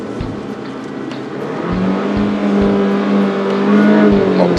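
A Mercedes-Benz CLA engine idles and then revs, holding a steady, sporty drone that rises and settles, close and fairly loud, with no talking.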